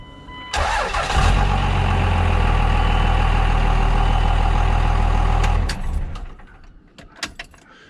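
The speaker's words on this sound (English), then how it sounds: "I'm gonna start the truck, and then I'm gonna turn it right back off" A second-generation Cummins diesel dually pickup cranks over and catches at once, then settles into a loud, steady, close idle for several seconds before the engine shuts off, leaving a few faint clicks and knocks.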